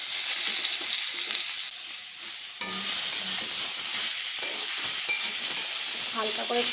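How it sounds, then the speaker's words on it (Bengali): Mango pieces dropped into hot spice tempering with a whole dried red chilli give a loud, continuous sizzle and hiss, with a sharp burst as they hit the oil and stirring scrapes throughout. "গোটা শুকনো লঙ্কা ফোড়নে আমগুলো দিয়ে দেবো।"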